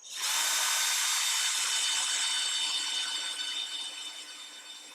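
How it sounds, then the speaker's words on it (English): A power drill whirs steadily at high speed, loud and close, easing off slightly toward the end. "I can just keep the drill running and pull back out of the material"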